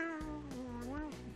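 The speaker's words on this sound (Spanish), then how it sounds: "Entonces, ahora vamos a saludar a Moti, gata de Carmen." A cat gives several clear, drawn-out meows in quick succession, close and fairly loud, with no talking over them.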